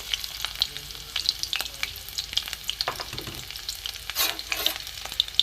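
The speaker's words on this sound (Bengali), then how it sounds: "রসুন কুচিটা একটু ভাজা ভাজা হোক" Chopped garlic fries in hot oil in a wok, a crackling sizzle with frequent sharp pops and spatters alongside stirring, moderately loud and close, no one talking.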